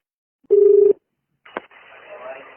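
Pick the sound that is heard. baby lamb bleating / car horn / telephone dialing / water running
telephone dialing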